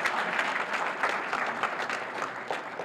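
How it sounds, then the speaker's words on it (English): An audience at a gardeners' gathering at Northeastern in Boston claps in steady, fairly close applause that carries through the whole moment. "a big round of applause for all the work they do to host you here"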